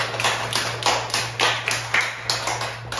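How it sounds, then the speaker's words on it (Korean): A church congregation claps in celebration of a member's birthday, giving a run of sharp, roughly even hand claps over a steady low hum. "우리 축하의 박수를 합니다"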